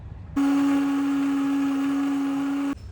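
A heating blender cooks and blends a Thai tea custard (sangkhaya), running as a steady, loud motor whine with a strong constant tone that starts abruptly, holds evenly for about two seconds, and then cuts off.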